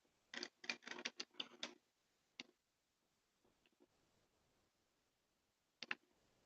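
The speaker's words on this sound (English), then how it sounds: "Oh, typing." Keys on a Razer keyboard clatter in a quick burst of clicks, then a lone tap, scattered faint clicks and a final short double click, quiet and close.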